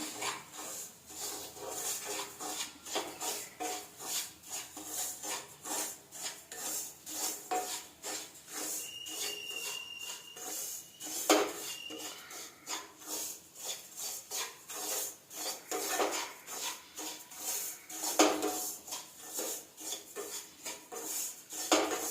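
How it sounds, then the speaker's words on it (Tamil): Semolina (rava) roasting in ghee in a kadai for pal kesari, heard as repeated close scraping and clinking of a spoon against the pan in a steady rhythm, with little sizzle. "அதை இதுக்குள்ளே இந்த நெய்யிலே போட்டு வறுத்துக்கலாம்"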